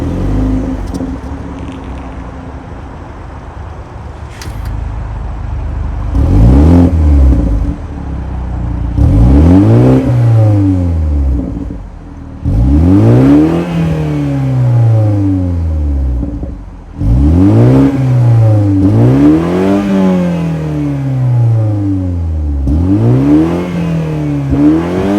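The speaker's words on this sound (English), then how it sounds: "let's fire up this 2-liter turbocharged 4-cylinder and hear how she sounds" A 2024 BMW 430i's 2-liter turbocharged four-cylinder engine starts with a brief whir and settles into an idle. It then revs sharply several times, each rise and fall sweeping up and back down, loud and close with no talking.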